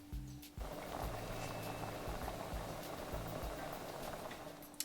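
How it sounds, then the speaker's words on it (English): Rajma, a kidney bean curry with julienned ginger, simmering in a pot: a steady soft bubbling and hiss that starts abruptly and continues evenly, with a low intermittent hum underneath. "we'll let this simmer for about 15 minutes"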